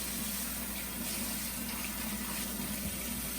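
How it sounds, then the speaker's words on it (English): Running tap water splashes steadily into a sink while rinsing a brass piece, a continuous close gush with no talking. "bring it over to the sink, and as gently as possible, I'm just going to rinse it off"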